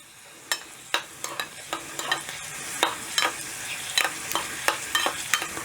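Cashews, raisins and a clove fry in fat for jaggery sweet pongal, a soft sizzle beneath a steady run of sharp spoon clicks and scrapes against the pan, close and distinct.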